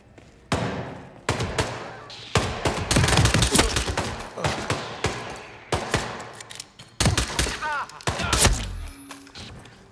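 Gunshots from a weak combat pistol in the Hitman Freelancer mode, sharp close reports fired in irregular bursts across the stretch, with brief gaps between clusters and voices talking faintly in between.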